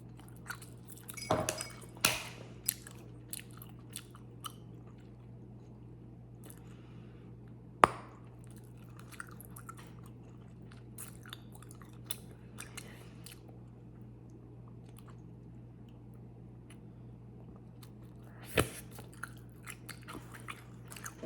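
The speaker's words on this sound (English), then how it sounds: "it has those little blue things that like pop as you chew the gum" Close-up chewing of gum with small blue bits that pop while chewed: soft, wet mouth sounds and scattered sharp clicks and crunches over a steady low hum.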